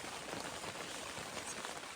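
Steady rain patters on a small tent during a mountain storm on an alpine lake hike, a dense, continuous hiss of close drops with no voices.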